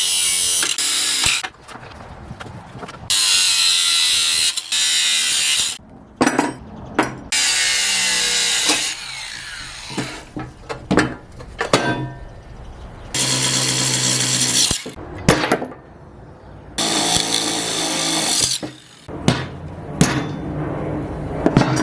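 An angle grinder cuts the parking brake cable ears off an 8.8 rear axle in a garage. It makes loud, close bursts of harsh metal-cutting whine and rasp, broken by short pauses, with occasional clanks between cuts.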